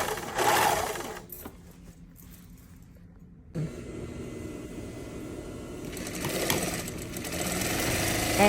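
A sewing machine runs steadily while stitching a skirt of Splash fabric. The close, continuous motor whir pauses briefly midway, then picks up again and grows louder toward the end, with no voices.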